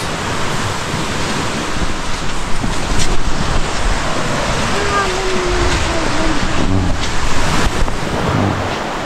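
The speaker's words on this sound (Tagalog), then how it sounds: "Ito yung dagat ng Balatan." Sea waves wash along the Balatan shore, a constant loud roar of surf mixed with heavy wind buffeting the microphone, with no pauses throughout.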